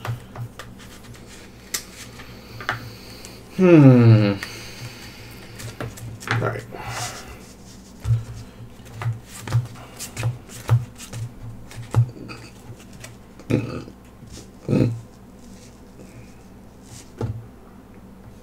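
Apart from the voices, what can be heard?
playing cards being shuffled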